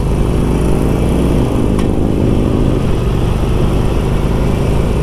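A 2020 Harley-Davidson Sportster Forty Eight motorcycle engine under way, a loud, steady rumbling drone heard close up, with wind noise and no voices.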